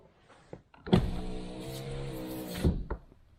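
Electric power window motor in a Toyota Corolla Verso runs steadily for about two seconds, a close, even whine that starts with a thunk and stops with another.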